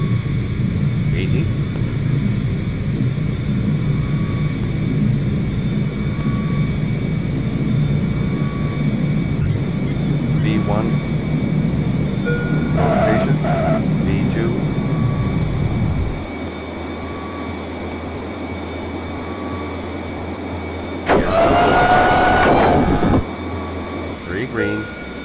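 Airliner jet engines roaring during takeoff in the Airline Pilots Deluxe arcade game, a loud, sustained rumble that drops in level midway, with radio-style voices talking over it and a brief electronic chime burst near the end.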